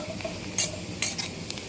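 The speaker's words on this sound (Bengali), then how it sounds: "এবার চিকেনটা দিয়ে দেবো," Chicken going into a pan of fried onions for chicken kosa: a low steady sizzle with two or three sharp stirring scrapes, close and fairly quiet.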